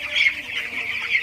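Broiler chickens clucking in a poultry shed, a steady mix of overlapping fowl calls at moderate loudness with no voices, holding through the short stretch.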